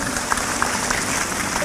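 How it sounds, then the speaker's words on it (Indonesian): An audience at a religious preaching gathering claps briefly, a soft, steady patter of many hands with a few sharper claps, fairly distant and continuous. "Tepuk tangan untuk Palangkaraya adalah."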